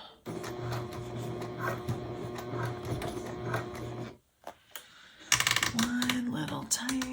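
A sewing machine fitted with a compensating foot stitches a crossbody bag in close, whirring runs broken by a brief pause, with a voice speaking over part of it.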